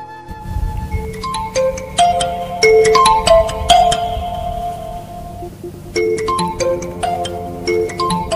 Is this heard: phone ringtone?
yes